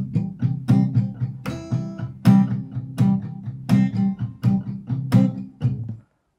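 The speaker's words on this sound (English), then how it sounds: "when you mute the string, it sounds like this" Palm-muted acoustic guitar strumming in a beginner lesson, a steady run of short, damped chords with percussive attacks, close and alone, ending abruptly after about six seconds.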